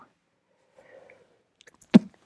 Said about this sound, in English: excuse me, I'm sneezing in your ear here.